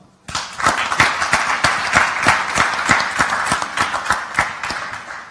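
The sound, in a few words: audience applause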